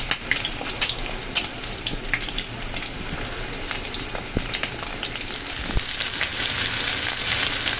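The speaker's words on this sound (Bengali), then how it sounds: "হাঁসের ডিম ছাড়িয়ে দেখো ভাজা করতে দিয়ে দিয়েছি আমি" Duck eggs frying in hot oil crackle and sizzle up close, with scattered sharp pops and spits over a constant hiss that swells slightly toward the end, with no voices.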